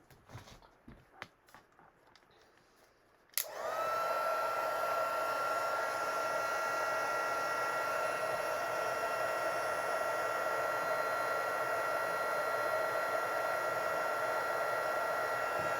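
A heat tool starts abruptly after a few soft handling knocks, then blows in a steady, loud, continuous whoosh while heat-embossing a stamped card.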